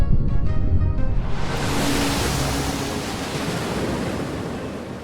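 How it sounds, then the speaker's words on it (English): A splashy plunge into Lake Mead in the video game Fallout: New Vegas turns into a steady rush of churning water and broad hiss that stays loud and fairly even for several seconds. "I took a refreshingly cooling dive into Lake Mead to race a B-29 bomber from the water"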